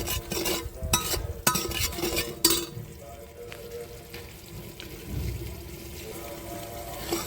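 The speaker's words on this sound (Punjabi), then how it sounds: "ਹੁਣ ਆਪਾਂ 2 ਮਿੰਟ ਮਸਾਲੇ ਪਕਾ ਲਾਂਗੇ" Spices with turmeric cooking in a pan for potato and pea rice, sharp spoon taps and scrapes at the start giving way to a softer steady sizzle, nearby with no talking.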